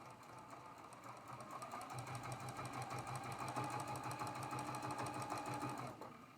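A sewing machine chain-piecing fabric pieces for a traditional Grandmother's Cross quilt block runs in a steady, continuous whir, picking up speed and holding a fast, even stitching rhythm before stopping abruptly near the end; no talking.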